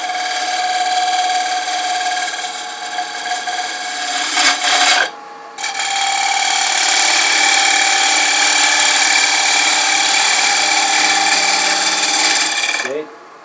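A wood lathe turning tool cuts a jewelry box on the spinning lathe, a steady close, loud scraping rasp that drops out briefly near the middle and then resumes until near the end.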